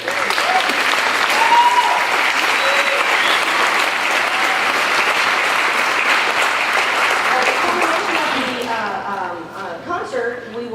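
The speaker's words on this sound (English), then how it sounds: "Yes, applaud for them." A concert audience applauds a high school wind ensemble at a school band holiday concert, with loud, sustained, even applause that tapers near the end as a voice starts to talk.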